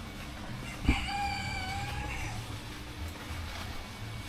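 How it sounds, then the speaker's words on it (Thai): A rooster crows once at a small zoo garden, a single mid-distance call lasting over a second, heard over low outdoor ambience and footsteps. "ได้ยินเสียงไก่โอก่อนเลยไก่โอ"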